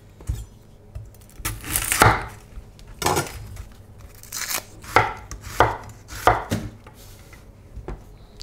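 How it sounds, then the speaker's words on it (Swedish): A knife chops large onions on a cutting board in a home kitchen, giving about a dozen crisp, irregular thuds close by, with no talk. "Nu ska vi hacka lök."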